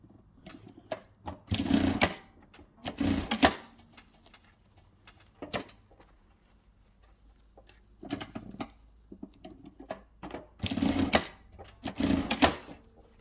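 A sewing machine stitches fabric for reusable Christmas crackers in several quick whirring bursts of rapid needle chatter, separated by quiet pauses, close and clear with no talking.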